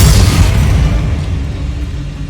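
A Bombarda spell explosion in Hogwarts Legacy, a loud, deep boom that hits at once and rumbles on, slowly fading over two seconds.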